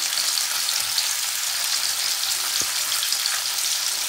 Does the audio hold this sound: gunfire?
no